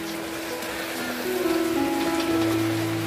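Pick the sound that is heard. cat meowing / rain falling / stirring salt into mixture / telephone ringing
rain falling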